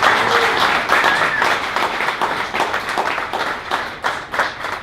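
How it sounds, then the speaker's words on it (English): An audience claps steadily for a full five seconds, dense loud applause that thins slightly toward the end, with no speech over it. "Let's give that a round of applause."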